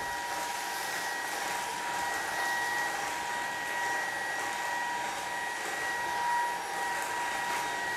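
A Dibea F20 Pro vacuum cleaner runs with a steady, even high-pitched whine and airy motor roar, close and constant for the whole stretch, with no talking.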